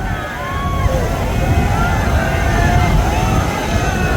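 Passenger launch Prince Raihan 1 races at full speed on a river, making a loud, steady engine roar mixed with rushing water and wind buffeting the microphone. Distant voices and chanting sit faintly under the noise.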